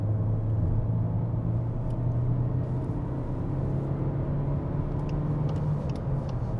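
A 2020 Škoda Octavia 1.5 TSI accelerating from the slip lane onto the D5 motorway, heard from inside as a steady low engine drone under road rumble, the pitch rising and then holding.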